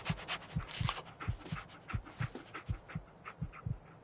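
Dogmeat, the companion dog in Fallout 4, panting in quick rhythmic breaths close by, steady and fairly soft, with no other sounds over it.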